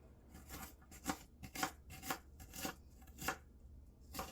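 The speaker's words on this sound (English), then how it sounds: "after I cut it, I just chop them into small pieces" A knife chops food into small pieces on a cutting board, giving a steady run of soft, close taps at a roughly even rhythm, fairly quiet with no talk over it.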